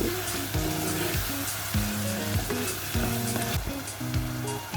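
Liver (kaleji) frying with garlic paste and spices, a continuous close sizzle and crackle under a recurring tonal background hum, with light stirring scrapes now and then.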